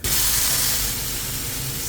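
A beef burger patty sizzling on a hot grill, a loud, steady, close-up hiss that holds almost unbroken for its full length with no talk over it.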